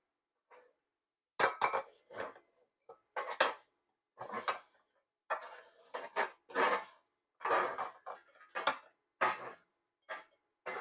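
Crispy golden fried potatoes are tipped into a bowl with a series of distinct clinks and scrapes of utensil against dish, close and fairly quiet, separated by short silent gaps.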